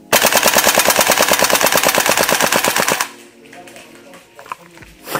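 A Tokyo Marui Saiga 12 SBS airsoft shotgun on full auto fires a rapid, even stream of sharp shots nonstop for about three seconds, then stops, leaving faint rustling and handling noise.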